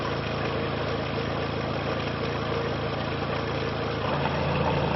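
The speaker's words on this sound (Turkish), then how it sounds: "Sağlıklı bir motor." A healthy car engine idles steadily, a constant close low rumble with even vibration and no pauses, slightly rising in level near the end, with no voices.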